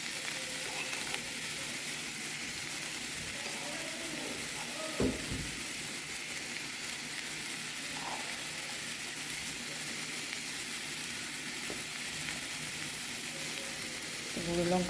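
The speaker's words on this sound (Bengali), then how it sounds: "চিচিঙ্গে ভাজা, শুধু একটু পেঁয়াজ দিয়েছি আর শুকনো লঙ্কা ফোড়ন দিয়েছি" Snake gourd frying with onion and dry chilli in a pan, a steady broadband sizzle throughout with a few light scraping and stirring clicks, close and continuous, no voices.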